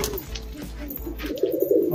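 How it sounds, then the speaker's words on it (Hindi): Several pigeons, including a Punjabi-Madrasi cross male, coo softly at close range, their low throaty calls repeating and growing more prominent toward the end amid light background noise. "देखो आप परदार कबूतर, नर कबूतर,"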